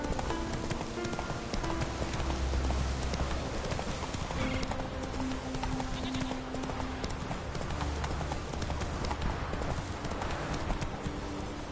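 Horse hooves gallop in a steady clip-clop rhythm while riding in The Witcher 3, close and continuous over a game soundtrack and ambient noise, with an occasional faint whinny.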